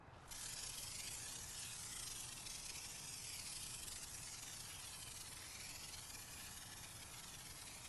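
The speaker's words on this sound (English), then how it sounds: "we're gonna go ahead and use our pump sprayer" Pump sprayer misting shampoo onto car wheels, a soft, continuous close hiss that starts abruptly and holds steady throughout.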